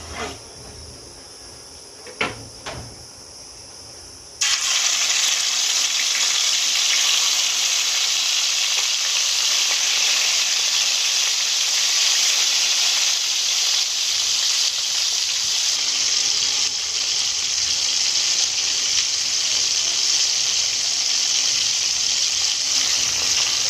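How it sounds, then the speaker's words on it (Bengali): Marinated rohu fish pieces dropped into hot oil in a wok, a few quiet knocks, then a sudden loud sizzle that holds steady and strong to the end. "এবার তেল গরম হয়ে গেছে আমি এক পিস করে মাছ দিয়ে দেবো কড়াইয়ের মধ্যে"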